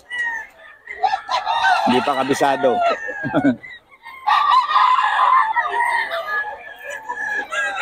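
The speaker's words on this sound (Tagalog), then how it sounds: "Yan, mga manok yan." Chickens and roosters at a poultry market in Bocaue crow and cluck nearby in bursts, with short gaps between calls, while someone talks over them.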